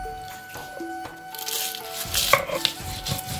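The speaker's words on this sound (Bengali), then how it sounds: "কাঁচা লঙ্কাও বাটা হয়ে গেছে," Green chillies with a little salt crushed on a grinding stone, giving rough scraping and grinding strokes up close, with faint tones in the background and no speech.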